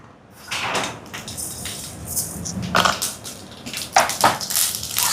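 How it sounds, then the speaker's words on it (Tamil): Mustard seeds crackle and pop in hot coconut oil, a scatter of sharp, irregular snaps over a low sizzle, getting busier toward the end. "இப்போ எண்ணெய் சூடாயிட்டு கடுகு சேர்க்குறேன்"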